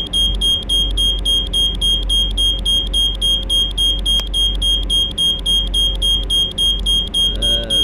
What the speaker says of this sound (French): je peux pas éteindre le signal sonore du KVB